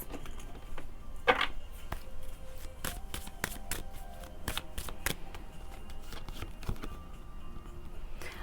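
Tarot cards are handled and shuffled close by, giving quiet riffles and a string of sharp card snaps and taps over a soft room hiss.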